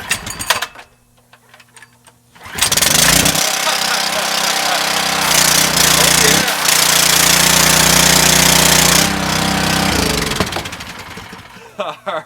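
A PowerHorse pressure washer's small gas engine catches after a pull start and runs loud and steady for several seconds, a rough buzzing drone that then cuts out, with a voice talking briefly before it starts.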